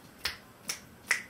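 Three sharp, evenly spaced claps from a Dr. Rhythm drum machine sample, driven hard and given a touch of reverb, ring out alone in quiet surroundings.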